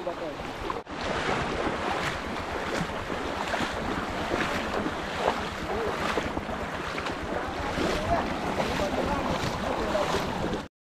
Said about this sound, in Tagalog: Ang lakas ang agos.